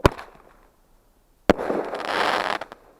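Firework exploding outdoors: a sharp close bang at the start, then a second loud bang followed by a crackling, hissing burst that sustains for about a second before fading.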